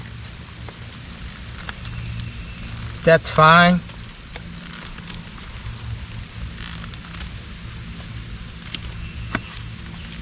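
Rain falling outdoors at a bushcraft camp, a steady broadband patter and hiss throughout, with a short spoken phrase partway through.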